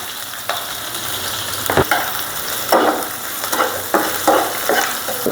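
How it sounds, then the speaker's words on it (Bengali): Spices and green chilies frying in a pan, including cinnamon, cardamom and bay leaf: continuous sizzling with repeated stirring scrapes and small crackling bursts, close up, with no talking. "এইটা আমি হালকা একটু ভেজে নেব।"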